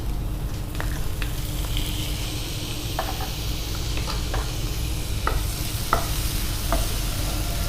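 Tomato and vegetables frying in oil in a pan, a steady close sizzle broken by several sharp spoon scrapes and taps against the pan.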